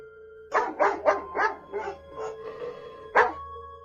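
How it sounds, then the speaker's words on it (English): A dog barks outside in a quick series of about six yaps, then pauses and gives one last louder bark, fairly close by. "I heard my 2 dogs barking outside"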